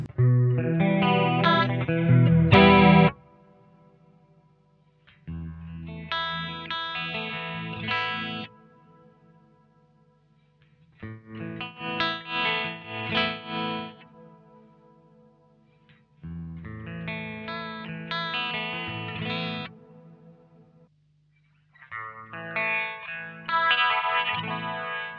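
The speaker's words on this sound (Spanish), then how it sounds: "Con la perilla del medio básicamente se seleccionan los diferentes tipos de modulación" Guitar run through a pedalboard's modulation effects with chorus engaged: several strummed chord phrases, each ringing out with a shimmering, wavering tone and separated by short pauses, loud and close with no talking.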